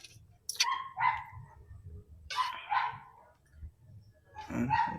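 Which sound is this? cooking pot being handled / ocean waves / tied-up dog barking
tied-up dog barking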